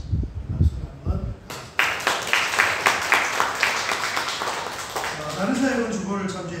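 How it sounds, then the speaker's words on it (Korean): Church congregation breaking into applause after a short spoken announcement, the clapping building quickly into a lively, rhythmic round of many hands before a voice speaks again near the end. "박수로 한번."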